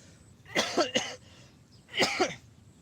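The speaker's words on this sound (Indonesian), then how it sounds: "Lagi batuk" A person coughs twice in close succession, then once more after a short pause, each a harsh, loud burst close to the listener with no talking around it, at a live stream held on Gunung Silimin.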